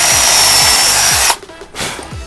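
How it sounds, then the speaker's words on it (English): Power drill boring through a cumaru hardwood decking plank, a loud steady whine that runs close and alone for over a second before cutting out, followed by brief faint handling noise. "all I'm doing is getting through the plank, not really trying to drill into the joist"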